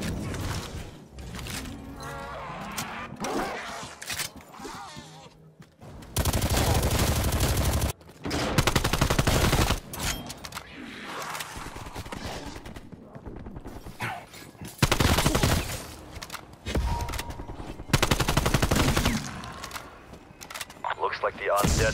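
Gunfire in Call of Duty Black Ops Cold War Zombies multiplayer: loud bursts of automatic fire and single shots in dense, irregular volleys, mixed with game sound effects and voices.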